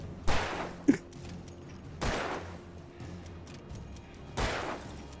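Gunfire in the Alan Wake Remastered video game, three spaced single shots with quieter game ambience in between.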